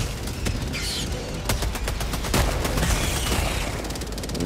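Auto cannon gunfire in the Helldivers 2 video game, a dense barrage of loud, sharp repeated shots and blasts that runs through the whole stretch without pause, with no talking over it.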